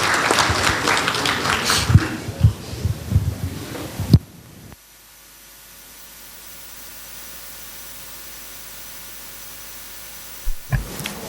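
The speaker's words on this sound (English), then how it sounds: "Please give a big round of applause to sir." An audience at a tax law lecture claps for about four seconds in a dense, moderately loud burst, then it cuts to near silence with a low steady hum and a brief final rustle.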